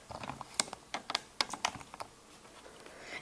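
A computer mouse clicks in a quick, uneven series of sharp taps, close and clear, while a Pokémon sprite is erased in small parts.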